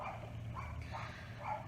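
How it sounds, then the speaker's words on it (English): A little puppy barks repeatedly in short yips and yaps at moderate distance, over a steady low background hum, with no talking. "I have a little puppy and she barks a lot."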